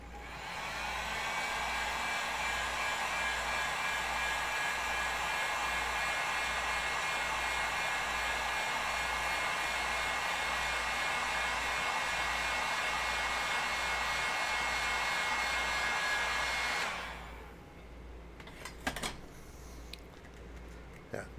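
A hair dryer blows hot air onto paint on a miniature figure, a loud steady whooshing roar running alone for about seventeen seconds before cutting off, followed by a few faint handling clicks.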